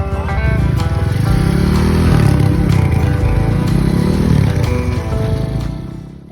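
A Honda Trail motorcycle engine runs close by, loud and steady for about six seconds, its low throbbing drone rising and easing slightly in pitch as it idles and revs.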